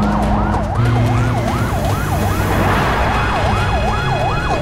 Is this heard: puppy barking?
no